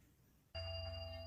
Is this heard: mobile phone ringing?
yes